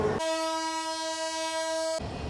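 A train horn at Kamalapur railway station on the first day of Eid travel sounds as a single loud, steady blast of about two seconds, set against a busy background hum.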